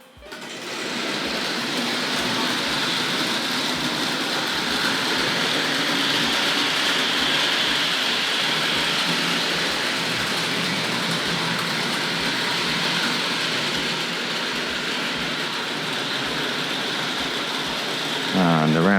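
A Hornby Dublo Bristol Castle model locomotive runs steadily around a track, giving a continuous rattling whir with a regular clicking beat from the rail joints, close and constant throughout.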